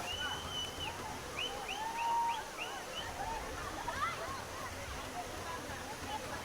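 Water rushes steadily at Aliyar Kavi Aruvi waterfall, a constant broad hiss that carries through the whole stretch while high chirping calls and distant crowd voices rise faintly over it.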